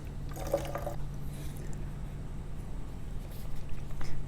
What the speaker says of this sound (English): So first I'll go ahead and add the water in.